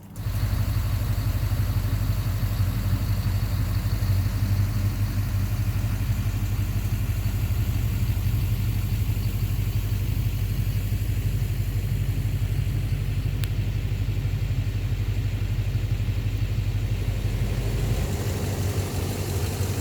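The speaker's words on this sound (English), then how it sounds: "Listen how quiet that engine is now" A Duramax LMM diesel truck engine, after new Bosch injectors were installed to fix knocking, idles steadily and quietly, a low, even rumble that holds for about twenty seconds with no voices.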